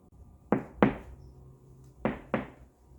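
Four sharp knocks on a hollow wooden wall of a wood-built house, struck in two quick pairs with a pause between, close and fairly loud in a quiet room.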